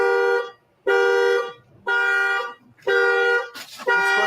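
A car alarm goes off with loud, blaring horn tones in repeated bursts about a second apart, separated by brief gaps, with no talking.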